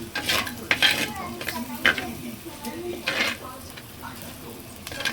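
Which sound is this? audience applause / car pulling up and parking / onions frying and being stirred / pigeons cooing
onions frying and being stirred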